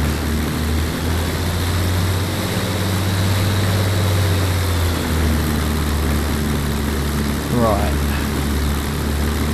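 Messerschmitt Bf 109 aircraft engine running on the ground before taxiing, a steady low droning idle with a throbbing propeller beat, continuous and close, while someone speaks over it.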